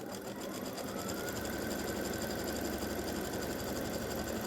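An embroidery machine stitches a placement outline in silver thread, giving a steady, close, continuous mechanical whir and rapid needle chatter with no talking.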